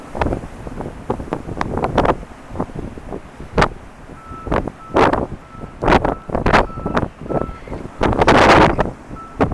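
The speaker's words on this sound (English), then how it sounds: "This is just blowing snow. The wind is a little gusty." Gusty wind blows loose snow outdoors, striking the microphone in irregular bursts of rough, roaring buffeting with brief lulls between the gusts.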